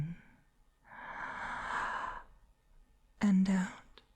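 A slow, deep breath drawn in through the mouth in a close, intimate ASMR hypnosis setting, an airy sigh-like inhale lasting about a second, followed by a brief soft vocal sound and quieter breaths.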